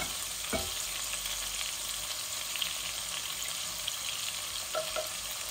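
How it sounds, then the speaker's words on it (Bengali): Oil sizzling in a large pot of dal, a steady close hiss of frying with faint stirring scrapes, continuous and even throughout. "এখন আমি ডাইলের মাঝে তেল দিলাইনি"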